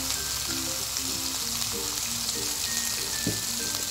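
Cooked spice paste for sambal goreng kentang with chicken liver, gizzard and petai sizzles loudly in a pan as tamarind water goes in, a dense continuous hiss with soft bubbling pops and no speech.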